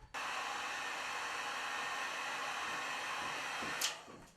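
A heat tool blows steadily on recycled wax, a constant airy roar from start to end that cuts off near the close with a brief rustle.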